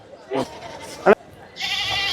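A sheep lamb bleats at the Ranipet goat and livestock market, short cries rising over people talking nearby, followed by a steady hiss of market noise.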